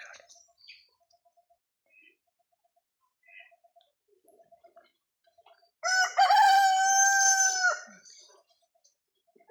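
A black hen clucks faintly in short, sparse bursts, then a rooster gives one loud, drawn-out crow near the end, on a quiet tea estate.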